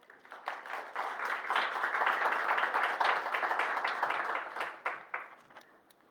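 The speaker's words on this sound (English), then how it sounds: "give my colleagues a round of applause as well" A modest audience at a panel discussion on safeguarding journalists gives a round of applause, scattered clapping that swells, holds for a few seconds, then tapers off.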